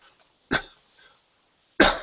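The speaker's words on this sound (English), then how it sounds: "That's a bad cough." Person coughs twice, close and fairly loud, each a harsh, rough burst about a second apart with quiet between.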